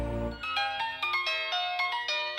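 A mobile phone ringtone for an incoming call chirps in a quick, bright melodic pattern of short repeated notes, clear and close, with no talking over it.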